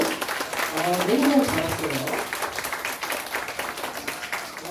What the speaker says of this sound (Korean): 우리 박수 쳐줍시다. 박수.